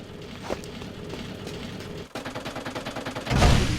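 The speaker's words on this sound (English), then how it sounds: "He's still shooting at me." Enemy gunfire in the video game Jak II, a run of rapid repeated shots that grows denser and louder toward the end, closing with a heavy burst.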